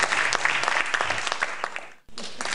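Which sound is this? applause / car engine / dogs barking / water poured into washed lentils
applause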